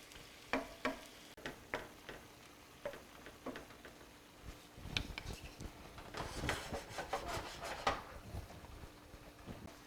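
Veal, pork or chicken scallopini simmers in wine in a pan, with a soft low sizzle under scattered utensil scrapes and taps, quiet and close.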